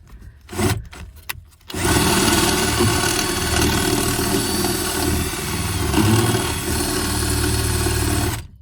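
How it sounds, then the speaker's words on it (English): A power drill whirs loudly and steadily for several seconds after a few brief knocks, running continuously close up while drilling out fasteners on a 2008 Volvo XC70 rear door. "So just using my drill here and getting those."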